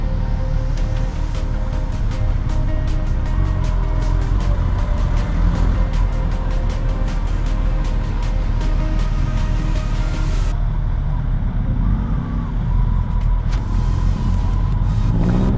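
Noon traffic in Angeles, Philippines, with jeepneys everywhere: a close, continuous roar of engines and revving vehicles, with rattling bursts through the first two-thirds that then ease off, leaving a lower drone.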